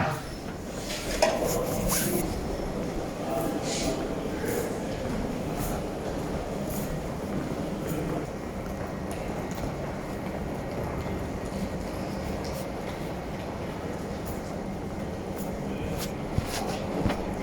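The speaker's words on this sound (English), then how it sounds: "Beautiful train station." Rumbling train on the tracks at a station in Bosnia and Herzegovina, with metallic rattles and occasional squeals, a continuous rail-yard din without voices.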